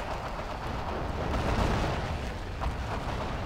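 Heavy, rumbling battlefield gunfire and explosions in Forgotten Hope 2, a dense continuous roar with dull booms swelling midway, loud with no clear pauses.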